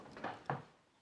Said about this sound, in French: placard